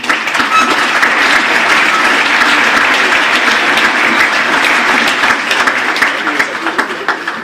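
Applause from an audience at a New Year's greetings ceremony, honouring a hiking-committee volunteer, loud continuous clapping from many hands close by, steady for about seven seconds and easing slightly near the end.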